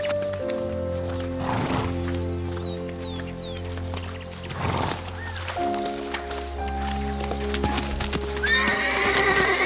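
Wild horses in Western Australia's desert neigh and whinny repeatedly while hooves clop, the calls rising loud and close over a steady musical backing.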